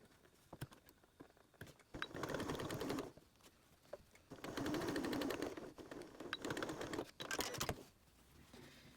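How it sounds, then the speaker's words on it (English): A sewing machine stitches a diagonal seam across bias tape for a hot pot lid holder, running in three rapid rattling bursts separated by pauses, close and clear. "you're going to stitch a line diagonally from that point where this edge and this edge intersect all the way up to your stitching."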